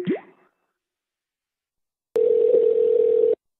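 A telephone dial tone sounds steady and loud for just over a second, alone, after a brief electronic blip and a long stretch of silence.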